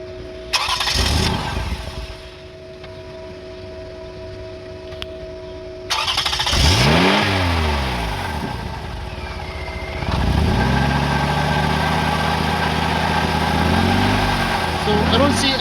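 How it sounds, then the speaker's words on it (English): A car engine cranks and starts after an exhaust flex pipe repair, revs briefly and then settles into a steady idle. A second start follows with a loud, even run, and people talk nearby. "Can you start the engine?"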